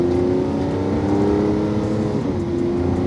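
A 740-horsepower sports car accelerates on a track, its engine giving a steady, loud, continuous drone heard from close by with no talking.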